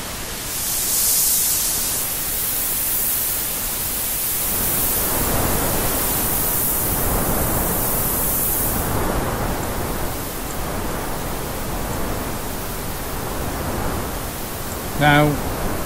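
Simulated vinyl record crackle and surface noise from a vinyl simulator app, a continuous hiss with fluctuating texture and a brief louder click near the end, with speech nearby.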